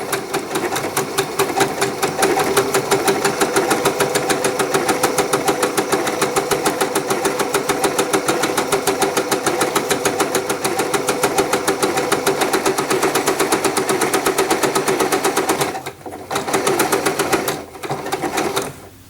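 Janome sewing machine running a blind hem on stretchy, previously worn hand-me-down fabric, a loud steady rapid needle rhythm for about fifteen seconds, then two brief stops and restarts near the end.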